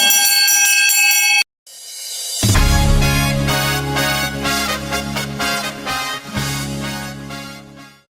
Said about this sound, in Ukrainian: хто кликав на урок? Ну, звичайно, наш дзвінок.